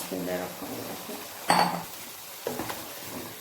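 Cleaned mutton pieces are stirred and fried with tinda in a pot, a soft sizzle under clinks and scrapes of a metal spoon against the pan, with two sharper knocks.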